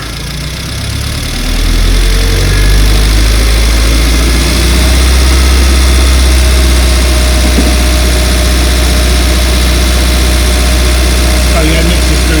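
Engine idling steadily while warming up on a car being tuned, a constant low rumble that swells after the first seconds and holds loud and close throughout.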